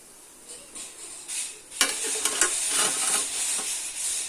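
Urad dal vadai sizzle as they fry in hot oil, a faint continuous crackle with occasional sharper pops and stirring clatter, heard alone at close range.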